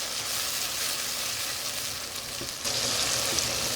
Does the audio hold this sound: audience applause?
no